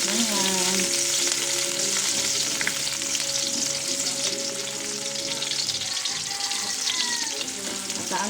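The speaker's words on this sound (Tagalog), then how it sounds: "so gigisa natin yung ating luya. Mix natin yung ating bawang. Lagyan natin yung ating sibuyas." Ginger, garlic and onion sizzle steadily in hot oil while being sautéed for chicken pinakbet, a continuous close frying hiss with occasional stirring scrapes and a faint hum of tones in the background.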